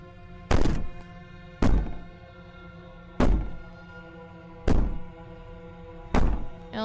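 Five heavy, booming thuds of someone banging on a door in the video game Slay the Princess, evenly spaced about a second and a half apart, loud and close against a quiet droning background.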